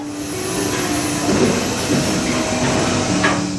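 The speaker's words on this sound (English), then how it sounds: "Last train of the night for Babe and last ride of the night here." A roller coaster train at Kentucky Kingdom rumbles and rattles steadily along its track, with a continuous mid-level roar and occasional clacks, no voices.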